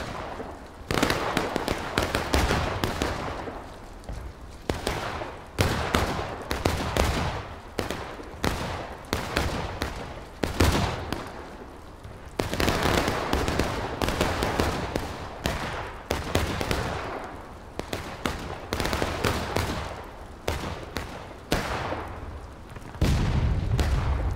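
Muskets crackle in ragged independent fire at a Civil War reenactment of the Maryland Campaign at Bolivar Redoubt, dozens of sharp reports spread over the whole stretch, some near and loud, others farther off.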